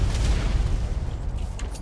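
Booming gunfire in the video game ARK Survival Evolved, loud heavy blasts rumbling continuously up close with no talk over them.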